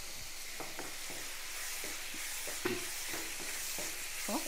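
Ridge gourd sautéing in a pan, with steady sizzling frying broken by repeated scraping, tapping spatula strokes as it is stirred, close and moderately loud with no talk.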